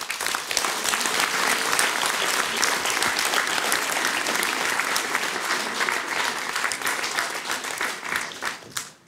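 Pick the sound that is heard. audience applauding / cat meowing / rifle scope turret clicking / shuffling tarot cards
audience applauding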